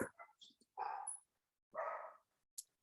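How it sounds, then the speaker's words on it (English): Several dogs bark indoors in a home, a scattered series of short, sharp barks and yips spaced apart, fairly faint and separated by quiet gaps. "they're going to always start barking when I'm on a Zoom"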